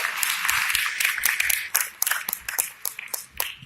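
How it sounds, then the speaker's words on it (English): An audience claps for a speaker introduced at a Columbus, Ohio event in 2018, with scattered, uneven claps forming a loose round of applause and distinct sharp individual hits standing out near the mic. "Give a round of applause."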